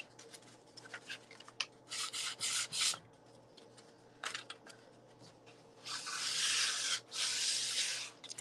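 Painted wood edge being distressed with sandpaper rubbed in circles, giving repeated bursts of close, raspy scrubbing separated by short pauses, with a long sustained rubbing run near the end and no talk.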